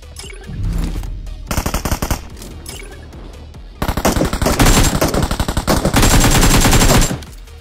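Rapid bursts of automatic gunfire in the game BGMI (PUBG Mobile), loud and close, in two long stretches with a short lull between, fast repeating shots in sustained volleys.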